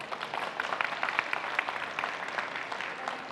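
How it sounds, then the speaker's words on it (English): An audience at a tech conference gives a round of applause, a steady wash of many hands clapping at a moderate, slightly distant level throughout. "That requires a huge round of applause."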